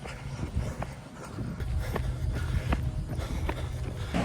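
A puppy moves around nearby, its paws padding and scrabbling in a steady run of soft footfalls against a low, busy background rumble, with no talking.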